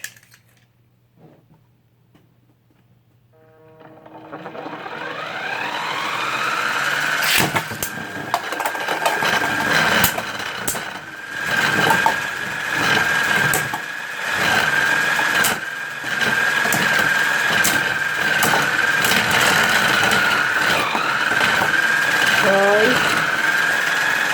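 Beyblade Burst spinning tops from a Surge Motor Strike battle set whirring and clashing in a stadium, a sustained high whine with repeated sharp clacks and hits, loud and close, after a quiet start with brief talk.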